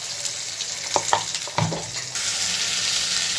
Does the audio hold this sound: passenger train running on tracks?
no